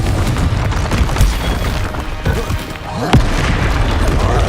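The Confringo spell goes off in Hogwarts Legacy with a deep booming blast, and a second sharper explosive hit follows near the end over a rumbling combat background.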